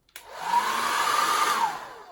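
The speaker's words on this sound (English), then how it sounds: "On goes the hairdryer." A hair dryer switches on at a low setting and blows steadily with a whirring hum and rushing air over curly hair, close by, with no voices.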